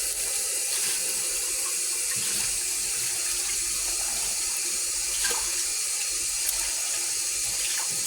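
A kitchen tap runs continuously as a mixing bowl is rinsed clean of vanilla and cinnamon, a steady close rushing splash with no pause.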